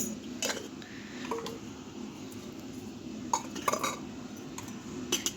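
Small toy pots, lids, a pitcher, a glass, a basin and a spatula clinking together, scattered light metallic taps and clinks over a quiet room hum.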